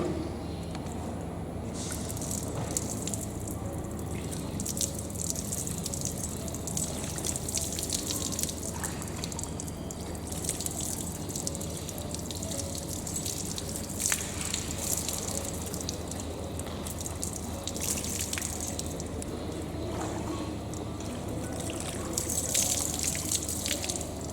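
Water running from a hose during a funeral washing demonstration, a steady trickling and dripping with splashes, continuous and moderately close for the whole stretch.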